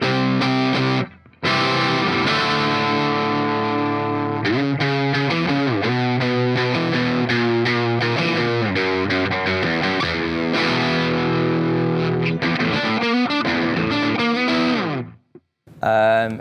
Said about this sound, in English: The Klon is the ultimate drive pod, in my opinion.